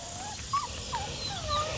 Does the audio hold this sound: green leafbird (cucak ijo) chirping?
no